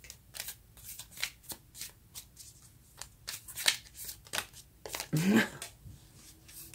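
Deck of tarot cards being shuffled close up, a series of quick rustling riffles and flicks in uneven bursts, louder near the end, no talking.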